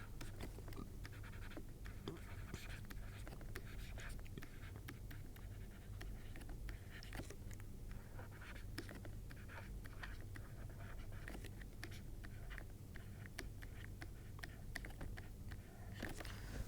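A pen scratching across paper as someone writes by hand during a physics lecture on microscopes, with faint, steady scribbling strokes and small taps continuing throughout at low level.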